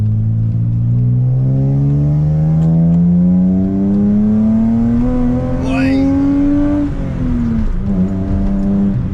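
A BMW E30's engine drones and climbs steadily in pitch as the car accelerates along an icy road, easing off with a brief dip around a gear change before pulling again, loud and close inside the cabin.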